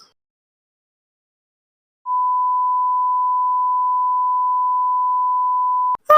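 A steady, loud single-pitch electronic tone drones for about four seconds after silence, then cuts off abruptly into a brief burst of sound.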